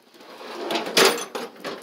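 A tool drawer in a workshop, stocked with sockets, torque wrenches and breaker bars, slides open or shut with one main broadband rattling clunk midway and softer scrapes around it, close and moderately loud.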